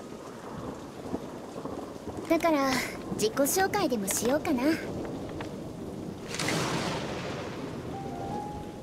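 Steady rain with rolling thunder falls during a storm in the Paper Trail video game, a loud crack and rumble rising midway under a calm voice talking, then fading back to soft rainfall.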